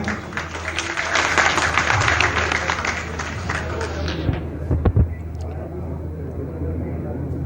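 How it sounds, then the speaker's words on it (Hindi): A crowd applauds at a Congress party political gathering in Jaipur, with steady broadband clapping for several seconds that thins out toward the end, while a voice carries on over it. "तालियां।"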